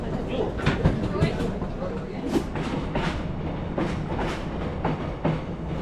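Passenger train rolling out of a busy station stop in Vietnam, a steady rumble of carriage noise with repeated clacks and knocks of wheels over rail joints at irregular intervals, heard from inside the carriage with faint voices mixed in.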